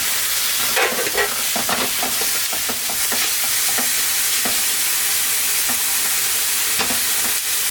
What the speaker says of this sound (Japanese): 続いてレバーを炒めます。